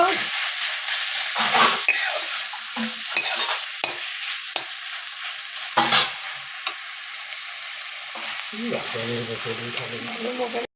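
Bathua greens with turmeric fry in a pan, giving a continuous sizzle broken by repeated scraping and stirring strokes from a spatula, close and fairly loud, with no talk.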